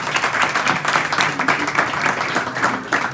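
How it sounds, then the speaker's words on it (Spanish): Audience applause in a hybrid conference session after a talk on pregnancy and postpartum, a steady, fairly loud wash of many hands clapping for about three seconds without speech. "a los cuales le damos un agradecimiento y un aplauso por su intervención"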